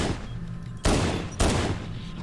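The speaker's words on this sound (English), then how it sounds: "I love having the pistol right now." Two sharp pistol shots from the Halo 1 video game, on the mission 343 Guilty Spark, about half a second apart. Each shot is a loud, close burst with a short decaying tail.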